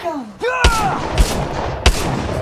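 Gunfire from the video game Apex Legends: three sharp, loud gunshots spread across the moment, each a broadband crack with a thudding low end, between which a brief voiced sound and a rising tonal game effect can be heard.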